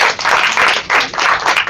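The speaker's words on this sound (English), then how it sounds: "give him a thunderous round of applause." Audience applause for a guest being welcomed on stage, a dense wash of many hands clapping that swells and dips in a few waves over a couple of seconds, with no voices over it.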